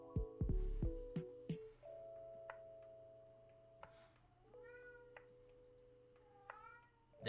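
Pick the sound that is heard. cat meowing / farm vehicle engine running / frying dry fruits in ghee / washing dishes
cat meowing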